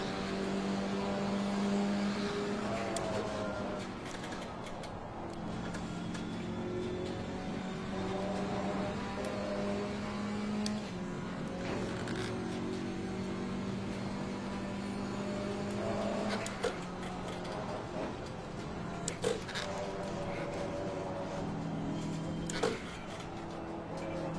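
A racing video game car engine drones steadily through a long stretch, its pitch holding and shifting slightly with gear changes, alone and moderately loud with a few sharp bumps as the car bounces over the track.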